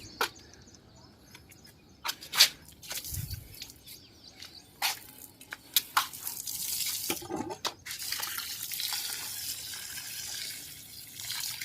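A water tap on a terrace garden runs to water the plants, first in short splashing bursts and then as a steady hiss of flowing water, fairly close.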